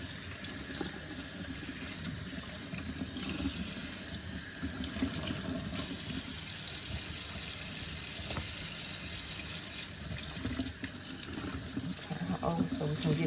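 A tap runs steadily into a sink while a reborn doll's long hair is rinsed, a constant splashing hiss lasting throughout, with a voice speaking quietly over the water.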